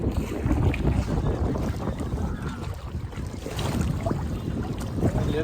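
Strong wind buffets and roars continuously over the Srisailam reservoir as a boat heads into a headwind, with rumbling gusts and water movement beneath, no clear talk.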